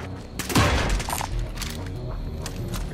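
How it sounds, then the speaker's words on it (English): A close, heavy burst of rapid gunfire in the video game Call of Duty Modern Warfare, followed by sustained rattling shots and booming, dense and loud throughout with no talk. "Receiving hostile fire."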